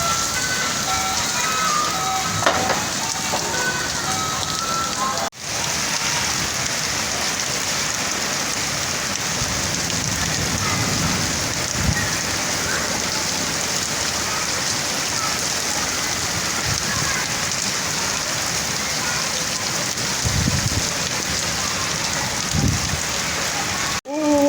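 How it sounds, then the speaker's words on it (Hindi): Heavy stormy rain pours steadily in a dense, continuous roar, with occasional low rumbles of thunder beneath it. "बड़ी तूफ़ानी बारिश हो रही है"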